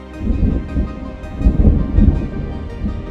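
A thunderstorm in the Jurassic World Evolution 2 video game rumbles with loud, rolling low thunder in several swelling waves over a bed of rain, with no voices.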